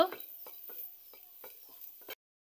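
Dried fish (shutki) is stirred in a wok, with a series of soft scraping strokes in an uneven rhythm over a faint hiss before the sound stops abruptly.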